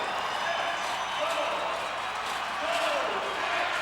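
Arena crowd at a National Lacrosse League game, Minnesota Swarm at Calgary Roughnecks, keeps up a loud, steady roar of cheering and noise with swells, while an announcer talks over it.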